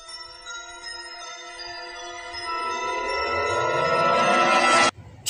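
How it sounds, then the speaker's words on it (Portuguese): A rising, swelling tone with layered harmonics builds steadily louder for about five seconds, then cuts off abruptly, like a suspense sting. "efeitos sonoros de suspense"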